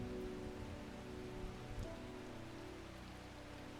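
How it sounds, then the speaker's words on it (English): Steady rain from the video game Strange Horticulture, a soft continuous patter with a low hum beneath it, even and unbroken throughout. "It's raining."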